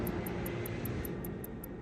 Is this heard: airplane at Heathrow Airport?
yes